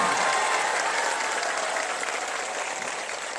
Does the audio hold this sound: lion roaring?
no